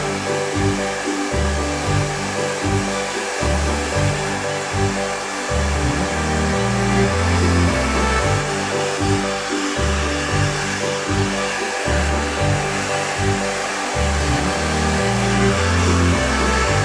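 A hair dryer blows continuously during a Brazilian hair straightening, a loud, steady airy roar with small shifts in pitch as the angle changes, heard alone without talk.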